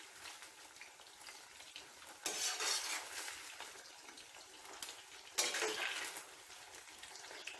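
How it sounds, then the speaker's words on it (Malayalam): Chicken pops deep-fry in hot oil with a soft, steady sizzling hiss. Two louder bursts of bubbling and utensil movement rise out of it, and nobody speaks. "ഇനി നമുക്ക് ബാക്കിയും കൂടെ വറുത്ത് കോരാം"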